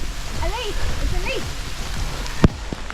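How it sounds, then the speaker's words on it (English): Steady rain patters in the background on a hiking trail while voices talk over it, followed by a sharp knock near the end. "yeah, it's raining."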